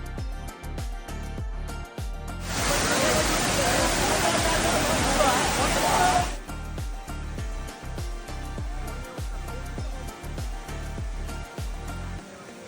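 A hidden waterfall on the Hyderabad–Warangal route, on slippery ground, roars loudly for about four seconds as a steady wash of rushing water that swells in and then cuts out over a quieter, faintly rhythmic background.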